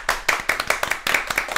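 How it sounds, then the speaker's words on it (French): Brief burst of live clapping from a small group of people, distinct hand claps in quick uneven rhythm, fairly close and loud, stopping for an instant before resuming. "Alors je vous demande cette fois de faire une tempête d'applaudissements Oh pour là là Stéphanie et Sébastien"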